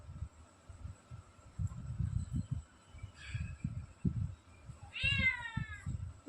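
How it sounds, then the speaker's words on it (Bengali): A domestic cat gives two meows, a short one and then a clearer, longer one. Both are fairly soft and rise over a quiet background of low, irregular thumping and household rumble. "মিয়াও।"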